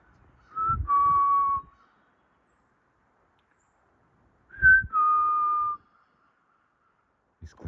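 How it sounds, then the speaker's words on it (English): Outdoors at a ski area, a blue jay gives two clear, whistled calls a few seconds apart, each a short rising note followed by a longer steady one, with a faint third sound at the end. "I think I hear a blue jay."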